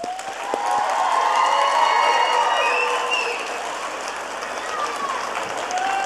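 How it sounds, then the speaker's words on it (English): Audience applause and cheering for a kindergarten class at an elementary school celebration, a full crowd clapping steadily with scattered cheers and whistles, some voices mixed in. "Please give them one more round of applause."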